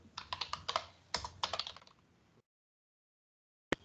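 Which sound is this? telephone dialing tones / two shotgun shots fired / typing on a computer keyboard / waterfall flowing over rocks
typing on a computer keyboard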